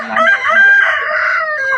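A fighting rooster on a Thai gamecock farm crows one long, loud, nearby cock-a-doodle-doo, rising and sustained for nearly two seconds with no talking over it.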